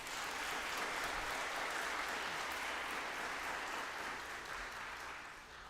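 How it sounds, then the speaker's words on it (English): An audience at an eighth grade graduation applauds teachers and staff, a steady, dense wash of clapping that holds evenly for several seconds and eases slightly at the end, with no talking over it. "Give them a round of applause, please."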